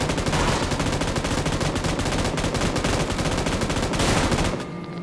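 Loud, continuous automatic gunfire in the video game PUBG New State, a dense rapid stream of shots that runs almost the whole time before cutting off near the end, with no voices over it.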